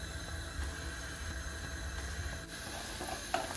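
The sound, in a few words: cumin and fennel seeds sizzling in a pan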